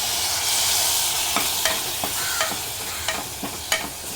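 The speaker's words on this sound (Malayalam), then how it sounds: "കരിയരുത് നമ്മൾ വഴറ്റിയിട്ടേ ഇരിക്കണം" Masala paste for chana masala is sautéed in a pan, giving a steady close sizzle broken by repeated short scraping strokes of a spoon at an uneven rhythm.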